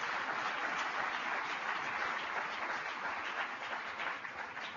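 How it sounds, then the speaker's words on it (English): A large audience of tribal leaders at a conference applauds for Pete Rouse, dense and continuous clapping that is steady and somewhat distant. "give Mr. Pete Rouse a big round of applause"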